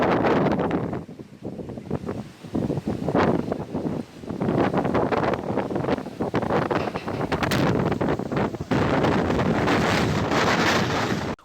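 Strong gusty wind in Ukraine roars and buffets the microphone continuously, loud and rough, with brief lulls between heavy blasts.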